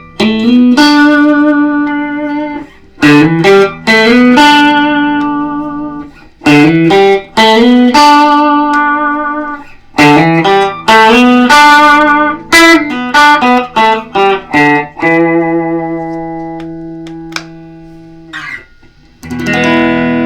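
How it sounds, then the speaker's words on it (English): A PRS SE NF3 electric guitar picks out single notes one after another, clean and close, each ringing with bright overtones and some sustain before the next, with short gaps between phrases and a long held note near the end. "And now I'll play some individual notes."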